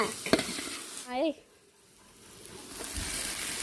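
Food fries in a pan with coriander and mint, giving a steady sizzle along with scraping stir strokes and a sharp clatter near the start, and a voice briefly cuts in.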